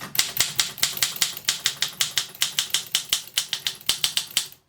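An Olympia SM2 manual typewriter clacks out rapid, crisp keystrokes at a steady, slightly uneven pace, each strike sharp and close with a faint carriage rattle, with no voices.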